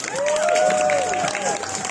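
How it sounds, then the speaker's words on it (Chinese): An outdoor crowd at Taiwan's Huashan park cheers for a street performer's hat dance, with a brief burst of clapping and a shrill rising-and-falling whistle or scream over the noise. "迪迪哥最热情的掌声加尖叫"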